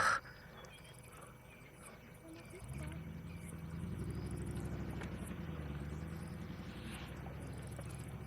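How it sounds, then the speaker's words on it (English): Lions lying on a carcass give low, rasping growls that swell in a slow breathing rhythm, rumbling steadily under faint background noise. "You can just hear them growling as they breathe."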